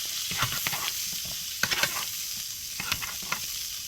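New York strip steak fries in a pan with a steady, close hiss of sizzling fat, punctuated by a few light crackles and pops and some soft scraping.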